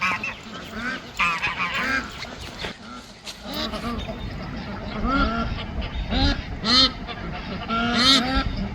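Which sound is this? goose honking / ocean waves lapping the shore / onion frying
goose honking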